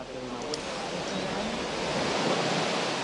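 The Flumen river flows in a continuous broadband rush of water, steady and fairly loud, filling the scene like surf or a stream without any distinct breaks.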